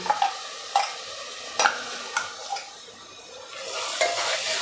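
Finely ground masala paste sautes in hot oil for a Konkan val bean curry, a quiet continuous sizzle broken by several sharp spatula scrapes and taps against the pan, no talk.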